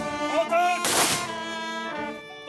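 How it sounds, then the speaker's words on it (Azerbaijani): A rifle volley at a military funeral rings out as one sharp, loud crack amid a sustained tonal, voice-like or musical sound that carries on before and after the shot. "Yaylım atəş açılıb."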